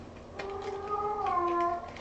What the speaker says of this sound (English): I've never heard a cat who was that vocal.